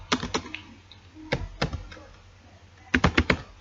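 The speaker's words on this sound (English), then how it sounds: "I type here Mahmoud," Typing on a computer keyboard while entering a Python list in a shell: quick bursts of close, crisp key clicks, separated by short pauses, with no talking.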